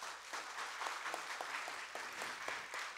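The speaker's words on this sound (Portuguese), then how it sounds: "Peço uma salva de palmas para a nossa homenageada." An audience at a solemn session honoring a Tiradentes Medal recipient gives a round of applause, fairly faint and distant, with rhythmic clapping accents standing out over the steady wash.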